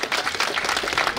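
Steady applause from a large crowd at a government gathering in Tana Toraja Regency, Indonesia, continuous dense clapping throughout the short stretch with no talk over it.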